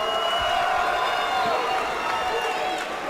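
A crowd at a fight event cheers and roars for a fighter introduced from the red corner in the co-main event, a dense sustained wash of voices, loud and continuous throughout.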